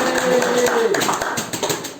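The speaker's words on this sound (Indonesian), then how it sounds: "Tepuk tangan untuk kelas" Students in a classroom clapping for their class, a brief burst of applause mixed with taps, voices and a cheer over it.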